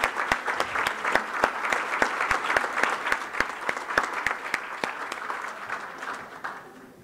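Applause at a conference closing ceremony: a modest audience claps for several seconds, individual claps audible within the steady patter, gradually thinning toward the end.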